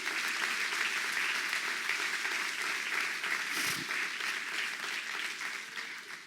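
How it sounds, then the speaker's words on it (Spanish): A church congregation applauds during a Spanish-language sermon, a broad, steady wash of many hands clapping that holds evenly and then slowly fades toward the end. "Dale un aplauso al que vive."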